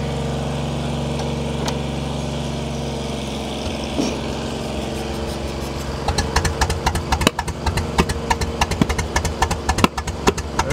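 A Ford 8N flathead tractor engine with a stuck valve idles in a steady, uneven drone. Partway through it turns to loud, irregular knocking and sputtering close by, with no talk over it.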